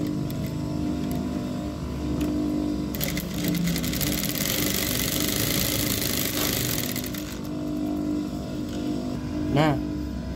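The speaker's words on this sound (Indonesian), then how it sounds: "Cara jahitnya tuh. Harus kalian jahit red." A sewing machine runs steadily, stitching fabric in a beginner sewing lesson, its motor whirring continuously near and loud with brief pauses, while someone talks over it.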